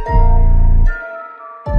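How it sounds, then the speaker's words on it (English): An aggressive 808 bass pattern programmed in FL Studio, deep booming hits with a melodic line on top, two long sustained notes separated by a short gap, loud and alone. "Next, I'm gonna lay down a simple but aggressive 808 pattern."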